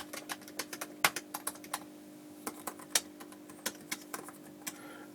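Key presses on the butterfly keyboard of a 2017 12-inch MacBook, a steady run of sharp, clicky taps at an uneven typing rhythm, close up and alone, with a few slightly louder strokes.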